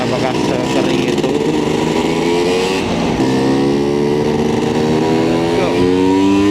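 A Vespa Special 90 scooter engine revs up close in rising, whining pulls, dropping briefly between gears before climbing again, with wind noise around it.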